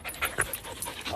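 A dog pants close by in rapid, rhythmic breathy puffs, steady and fairly loud throughout, with no speech.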